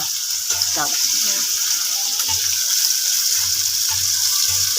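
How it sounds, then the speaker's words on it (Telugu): Pieces of bitter gourd deep frying in hot oil, a steady close hiss of bubbling and sizzling with faint low murmurs underneath. "కాకరకాయ మంచిగా ఫ్రై చేసుకుంటున్నాం అనమాట ఆయిల్లో డీప్ ఫ్రై"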